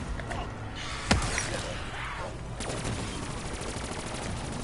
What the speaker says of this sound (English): Or just unload on him with my assault rifle.